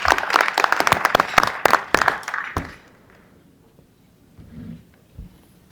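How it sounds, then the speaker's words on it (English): Audience applause, dense clapping for about two and a half seconds that fades out, followed by quiet room murmur. "Let's give him a round of applause as he comes."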